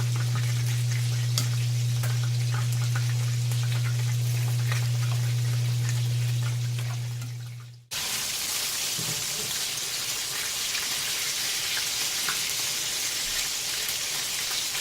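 Rice and a vegetable medley sizzle in a pan over a lowered flame, a close, steady crackling hiss with a low hum in the first half, then a cut to brighter, more even frying.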